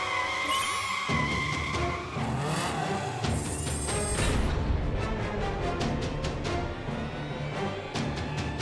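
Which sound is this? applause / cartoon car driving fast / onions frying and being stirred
cartoon car driving fast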